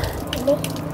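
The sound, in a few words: running water from a tap while servicing a Panasonic aircond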